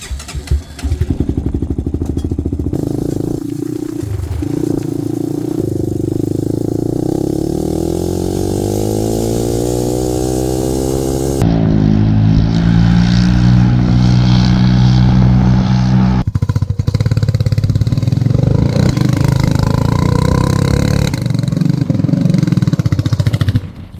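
A Honda TRX 400 EX ATV engine runs loud and close while being ridden, its pitch climbing and dropping as the throttle opens and eases, with a steady rumbling drone throughout.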